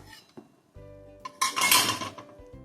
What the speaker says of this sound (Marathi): आता हा पराठा प्लेटमध्ये काढून घेऊया